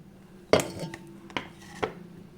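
A spoon mixes cornflour and rice flour batter in a bowl, making three distinct clinks and knocks against the bowl, separated by soft, quiet stirring.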